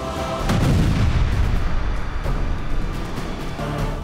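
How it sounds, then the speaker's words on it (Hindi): Heavy artillery shelling during fighting in the Russia–Ukraine war, with a Russian T-90M tank in the group: a loud, continuous low rumble of booms and blasts rolling on and on, dense and close, with no talking. "ताबड़तोड़ गोलाबारी शुरू हुई और यूक्रेन के कई हथियारों का अंत हो गया"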